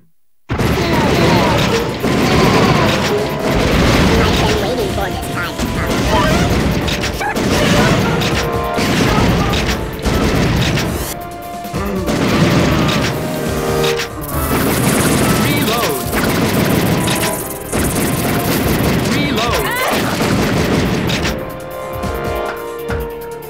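Gunfire rings out in House of the Dead 3 on the Wii as shots blast at a door to force it open, a dense run of loud cracks and crashing impacts with game effects and music layered over nearly the entire stretch.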